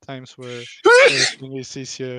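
A single sharp sneeze bursts out in the middle of a person's ongoing speech, brief and loud, with talking right before and after it.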